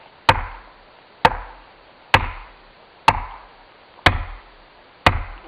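An axe strikes a tree in six sharp, evenly spaced chopping blows, each a loud, close crack followed by a short ringing decay, with no talk, as the final strokes before felling in the Amazon forest.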